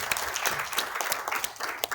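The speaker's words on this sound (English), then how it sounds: "if you could continue to clap" An audience at a lecture by the Israeli ambassador to India claps, a brief, fairly faint patter of many hands in a room, steady throughout with no voices.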